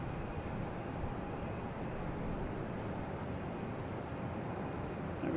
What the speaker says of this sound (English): And we have a Delta taking off.